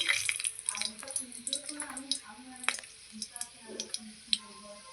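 Whole garam masala spices dropped into hot oil for a spicy mutton curry, giving a soft crackling sizzle with scattered pops and small clinks, fairly quiet and close.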